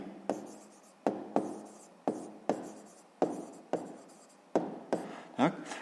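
Pen or pencil writing out a sixth-grade fraction answer by hand, with about nine separate close strokes in a quick uneven rhythm and nothing else heard.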